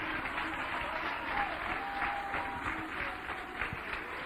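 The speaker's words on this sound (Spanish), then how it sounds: "Denle un aplauso a Cristo, que Él se lo merece." Church congregation applauding during a Spanish-language sermon, a sustained wash of many hands clapping in a roomy space with some rhythmic unison, continuing at an even level with faint voices underneath.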